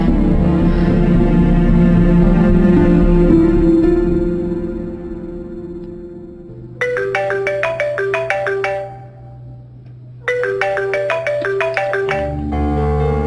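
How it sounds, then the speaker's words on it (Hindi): A phone ringtone plays in repeated melodic bursts, loud and close, with a pause between rings and a low hum underneath. "या अल्लाह, ये साइमा फोन क्यों नहीं उठा रही?"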